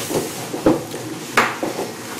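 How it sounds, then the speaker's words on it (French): A mixing bowl of melted soap base lifted off a bain-marie, giving a few scattered light clinks and knocks of dish against pan, spaced irregularly at close range. "Alors je vais donc retirer le bol du bain-marie."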